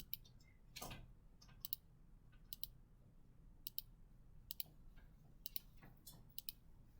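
Calculator buttons are pressed in quick, faint clicks, scattered irregularly over a quiet low hum, each tap short and sharp with no talking.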